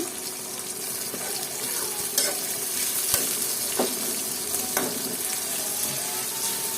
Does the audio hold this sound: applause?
no